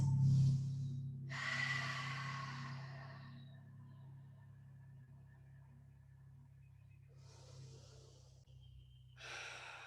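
Heavy breathing during an intermediate vinyasa yoga flow, with a few loud, forceful exhales and sharp inhales, close and breathy, separated by quieter stretches of room noise.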